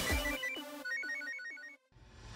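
A phone rings with a bright melodic ringtone, a repeating pattern of tones sounding close and clear for about two seconds before cutting off, with no talking.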